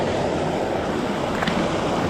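A small waterfall flowing at a fishing spot, a loud, steady broadband rush of splashing water close to the microphone, constant throughout with no pauses.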